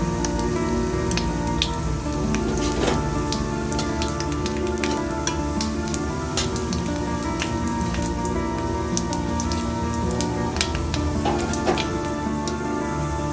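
Panch phoron spices and dried red chillies sizzle in hot oil in a home kitchen while making a raw mango pickle, a steady loud crackling frying hiss throughout with occasional sharper pops, no talking.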